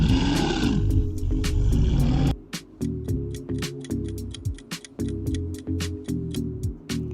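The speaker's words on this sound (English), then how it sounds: "It's bear." A bear growls in a deep, rumbling roar for about two seconds, then stops. A steady clock-like ticking follows and continues alone.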